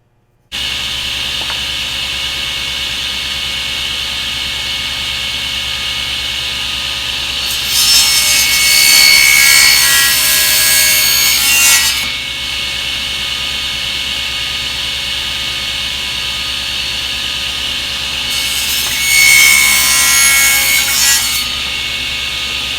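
A table saw cuts dovetails in wood, with two loud bursts of blade cutting through stock, each a few seconds long, over the steady whine of the spinning saw.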